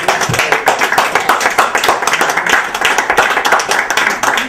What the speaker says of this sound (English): Clap for him. He needs that.